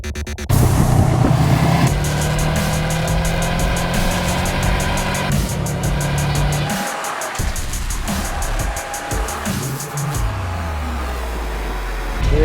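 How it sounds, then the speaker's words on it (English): A Subaru WRX STI tears up a closed mountain road in Cambodia, its engine revving hard through gear changes with rising and falling pitch, loud and close for the whole run. "I can let this WRX STI run wild. We're going to tear up this mountain road right now."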